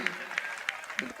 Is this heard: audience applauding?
yes